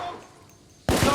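Gunfire in the PS5 game The Order: 1886 erupts as a sudden, loud, dense volley after nearly a second of quiet, continuing to the end.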